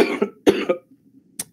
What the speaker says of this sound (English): Coughing fit, horribly timed.